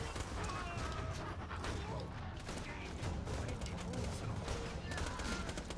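Shotgun blasts and gunfire in Borderlands 2, aimed at a gasoline container, in a dense, continuous fusillade of shots and booms that fills the whole stretch with steady loud chaos.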